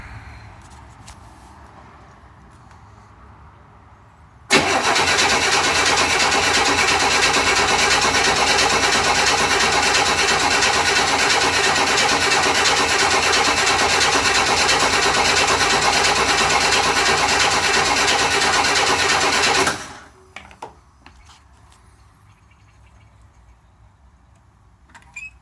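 A 1963 Chevy Nova's 194 engine fires for the first time, catching abruptly and running at a steady, loud, close idle for about fifteen seconds before shutting off, leaving quiet background noise.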